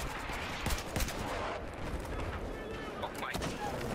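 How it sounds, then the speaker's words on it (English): Battlefield 4 gameplay carries rapid bursts of gunfire and distant crackling shots in a continuous, busy battle mix, with a player talking over the action. "Oh, they are shooting at us currently."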